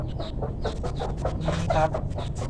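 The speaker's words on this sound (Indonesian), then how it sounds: "Ada ayam guys." A chicken clucks in a quick run of short, close, repeated calls, heard clearly on its own with no talking.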